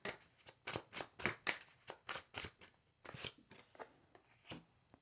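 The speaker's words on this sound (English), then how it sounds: "I will pull one more card as an advice card for you, and we'll end at that." Tarot cards are shuffled in a quick run of crisp riffling bursts, about a dozen evenly spaced flutters, then the softer slide of a single card being drawn. Close and clear with no talk.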